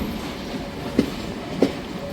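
A passenger train runs on the rails toward Jaffna, a steady, rushing rumble with two sharp clacks about half a second apart partway through.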